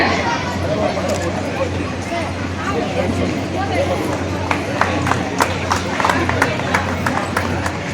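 Audience applause at a World Mental Health Month event at a mental health centre, honouring Chief Minister N. Rangasamy: steady clapping with sharper claps throughout, under a background hubbub of crowd chatter.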